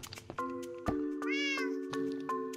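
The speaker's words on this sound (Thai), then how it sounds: "โอ้โหดีได้ยินเสียงแมวร้อง" A cat meows once in the Minecraft Create Astral modpack, a single rising and falling cry that sits over steady game tones and sharp clicks.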